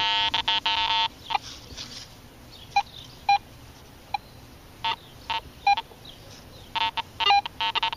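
Garrett AT Pro metal detector with a 5x8 coil sounding a series of short, sharp electronic tones in irregular bursts, some clustered and some isolated, over a faint background hiss.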